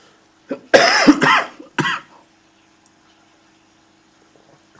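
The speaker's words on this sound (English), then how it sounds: "I've still got this mad cough, which I can't seem to shift" A man coughs in a harsh, hacking fit: a couple of loud, close bursts followed by a shorter cough, then quiet room tone.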